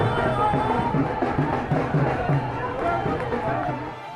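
A crowd of party workers celebrates on the streets of Moradabad, Uttar Pradesh, after a candidate files his nomination, with dense overlapping voices, chatter and shouting forming a steady loud hubbub.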